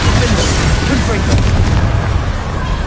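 A loud blasting-spell explosion from a Harry Potter video game bursts out as a dense, roaring boom that holds steady for a few seconds and fills the foreground.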